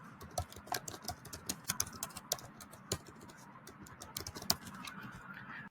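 Quick, light keystrokes clatter on a computer keyboard as a short search phrase gets typed, an irregular run of close, faint clicks heard alone.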